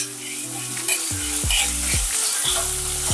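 Chopped garlic, chilli, ginger-garlic paste and onion frying in a pan, a loud, steady sizzle with a few stirring scrapes, close up, under a sustained musical tone.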